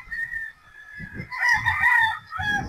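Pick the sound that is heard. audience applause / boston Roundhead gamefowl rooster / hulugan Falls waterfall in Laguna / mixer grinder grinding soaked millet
boston Roundhead gamefowl rooster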